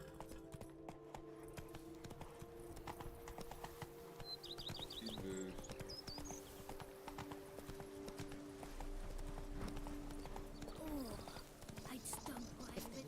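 A horse's hooves clip-clopping along in The Witcher 3, a steady rhythmic trot under game ambience with faint bird chirps and occasional voices talking.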